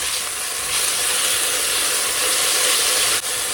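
Beef browning in a pot for stew makes a loud, steady sizzle with constant bright hiss and little change, and a brief dip near the end.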